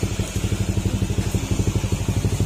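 An overheated motorcycle that ran low on oil idles close up after repair, its engine pulsing in a steady, quick, even beat with a light mechanical clatter on top.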